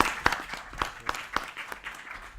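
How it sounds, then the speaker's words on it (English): Audience applause at a policy forum session, a short burst of scattered hand claps lasting a couple of seconds, moderately loud with distinct individual claps. "let's just give a round of applause to this"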